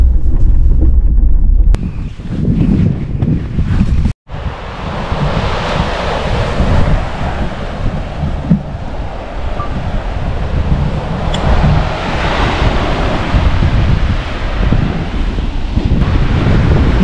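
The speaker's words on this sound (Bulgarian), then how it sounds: "Много е силен вятър" Strong wind buffets the microphone on the Sardinian coast while sea waves roll in, a loud, continuous rumbling roar with gusty surges and a brief dropout.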